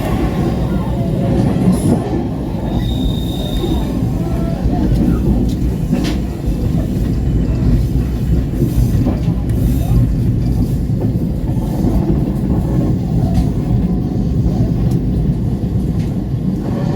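The KA Pangrango passenger train rumbles loudly and continuously between Parungkuda and Cicurug stations in Sukabumi, Java, with steady wheel and carriage noise and occasional clanks, while a voice talks over it.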